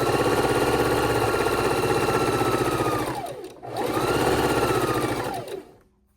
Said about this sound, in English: chain stitching, adding one strip after the next.